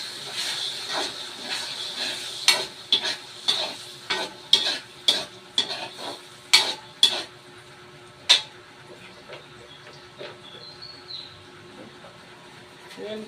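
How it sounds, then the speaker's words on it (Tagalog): Spaghetti sauce being added and stirred in a pot, with a soft sizzle and steam hiss under a series of sharp utensil scrapes and taps, about a dozen close knocks in the first half, then quieter. "Lagay na natin yung sauce na yan."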